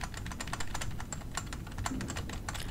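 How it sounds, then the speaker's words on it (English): Rapid, clattering keystrokes on a computer keyboard sound close and continuous, with dense irregular clicks and no talk. "Can you hear me spamming my keys right now?"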